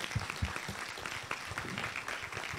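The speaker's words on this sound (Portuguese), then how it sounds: "Salva de palmas ali para ele também." Audience at an academic integration event breaks into applause, a dense wash of clapping throughout, heard at moderate level from within the hall with a few sharper nearby claps.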